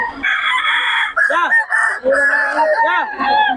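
A stag gamefowl rooster of the Sweater bloodline crows loudly and close, a long harmonic call broken into several rising and falling segments, with a brief burst of clucking before it.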